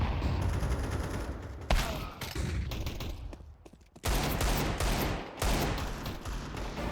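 Counter-Strike pistol gunfire on the Dust2 map, with dense bursts of rapid shots, brief lulls and renewed volleys at moderate distance, no voices present.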